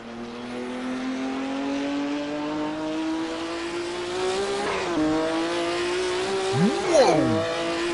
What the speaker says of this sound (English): I'm low-key intimidated by how much power this car has got.